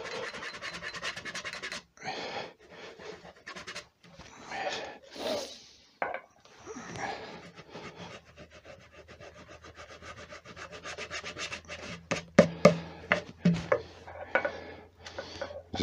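Used coffee grounds are rubbed by hand into a punky turned wooden bowl, giving repeated gritty scrubbing and scratching strokes in uneven bursts, close up, with a low hum entering later.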